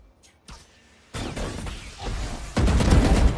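Gunfire in the tactical shooter game Valorant, a rapid burst of loud shots with a sharp onset, followed by another heavy volley near the end, after a quieter opening with a few faint clicks.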